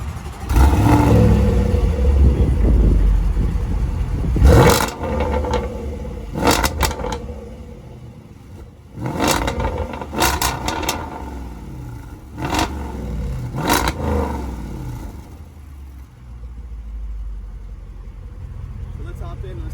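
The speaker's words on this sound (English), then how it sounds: "she's going to film the exhaust and let you hear a little bit of how it sounds" 2019 Jaguar F-Pace SVR with its engine running, a low exhaust rumble rising and falling under repeated revs, with sharp mechanical clicks and a person talking over it.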